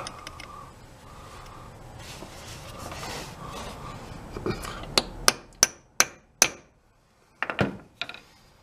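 A hammer strikes a chisel to set a loose hammer head, first a stretch of rough handling and scraping, then a series of sharp, ringing metallic blows at a steady pace, followed by a couple more after a brief pause.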